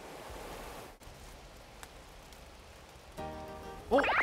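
Water rushing in a mountain stream beside the Odaesan pilgrimage trail on the way to Sangwonsa temple, a steady broad wash with a click and a brief tonal burst near the end.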